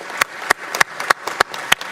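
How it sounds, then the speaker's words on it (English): A few hands clap unevenly at a congressional subcommittee hearing, making a brief, sparse round of applause of about seven distinct claps. "I think we owe him a round of applause for his new endeavor."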